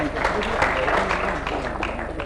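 Audience applause at a startup awards event: steady, dense clapping from a room full of people, moderately loud and sustained across the short stretch.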